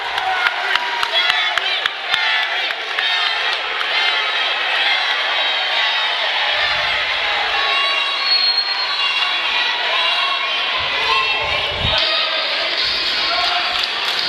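Wrestling arena crowd roaring and cheering after Jerry Lawler lands a drop kick on Mike Orlando, a loud, sustained roar of many voices that holds steady for the whole stretch with scattered whoops and a few sharp thuds.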